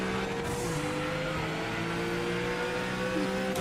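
GT3 race car engine in the Project Motor Racing video game, a steady loud droning roar with shifting pitch lines as cars run near each other approaching Eau Rouge, continuous throughout with no talk.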